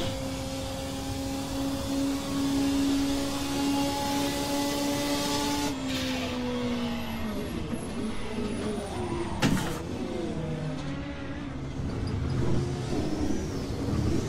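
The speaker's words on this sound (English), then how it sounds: "Fifth gear and the turbo and then the backfire when you lift off." Ford race car on track in fifth gear, engine droning steadily under load with turbo whistle, then lifting off into a sharp backfire crack, followed by rough, burbling deceleration and downshifting, close and loud.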